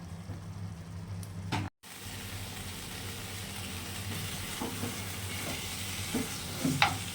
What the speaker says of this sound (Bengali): দেখুন মাংসটা কষানো হয়ে গেছে